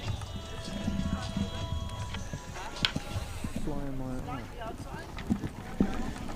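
A show-jumping horse at a President's Cup event moves across the arena with steady hoof clip-clops and occasional knocks, heard under a continuous commentator's voice and crowd ambience.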